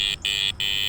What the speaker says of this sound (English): That's clearly the sound of iron on the Apex there.